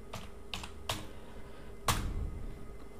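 A name being typed on a computer keyboard: a few separate keystrokes in a short run, then one firmer press after a pause, fairly close and clear over a quiet room.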